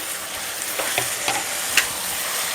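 Tomato curry frying in a pan on the stove while it is stirred, giving a steady sizzle with a few soft utensil scrapes and clinks against the metal, close up and with no voices.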